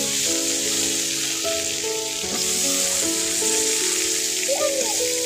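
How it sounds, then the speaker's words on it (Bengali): Eggplant pieces tipped into spice paste frying on a clay wood-fired stove, giving a loud, continuous sizzle and crackle with light background music throughout. "বেগুনগুলো দিন"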